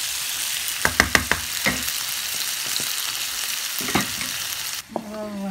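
Vegetables for a vegetarian biryani cook on low heat in a pan, giving a steady close sizzle with a few sharp clinks near the start and again near the end.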